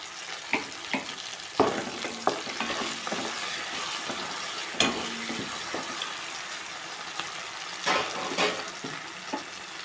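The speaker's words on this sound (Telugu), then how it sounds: "ఒకసారి కలిపెట్టేసుకొని కరివేపాకు వేసేస్తున్నాము" A sautéed mixture for an Ongole-style fish curry is stirred in a pan with curry leaves added, a soft continuous sizzle punctuated by spaced spoon scrapes and clanks.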